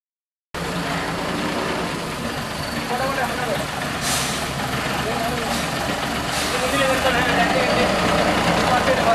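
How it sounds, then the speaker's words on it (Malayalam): A vehicle carrying blood donors pulls away from outside a house, its engine rumbling steadily and growing slightly louder as it moves off, with faint hissing bursts in the background. "ദാനം ചെയ്യാൻ ഉള്ള ആളുകൾ കയറിയ വാഹനം നിതിന്റെ വീടിനു മുന്നിൽ നിന്ന് പുറപ്പെട്ടു."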